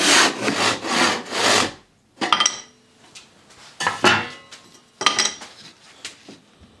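A hand saw rasps through wood while cutting a shoulder, several separate bursts of strokes with short pauses between them, close and clear.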